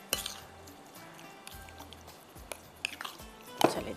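Ingredients for matar pulao are mixed with a utensil, giving faint, scattered clinks and soft scrapes against a pot or bowl, with a few sharper taps at irregular intervals in a quiet setting.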